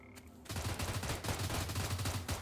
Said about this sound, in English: it's people shooting at each other